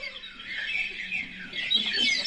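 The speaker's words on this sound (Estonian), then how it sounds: "Üha lisandus linnu hääl järvedelt ja jõgedelt." Faint bird calls from lakes and rivers in a radio play, with thin high chirps and squawks spread over a soft, quiet background.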